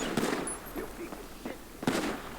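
Rapid gunfire in GTA Online's survival mode, two sharp bursts standing out at moderate loudness over a busy background of game noise and faint voices.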